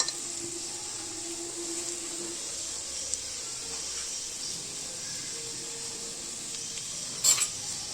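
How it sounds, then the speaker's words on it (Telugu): Rice stirred and frying in a pan for egg fried rice gives a steady, soft sizzle and hiss with faint spatula scrapes, ending in a brief clatter near the close. "రైస్ అంతా బాగా వేసిన తర్వాత ఒకసారి మళ్ళీ కలపండి"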